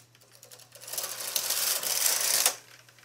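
A knitting machine carriage being pushed across the bed to knit a single row, a rising rattling clatter of needles that builds over about a second and a half and then cuts off, close by over a faint steady hum.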